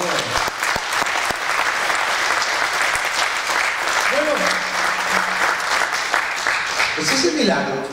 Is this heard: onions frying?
no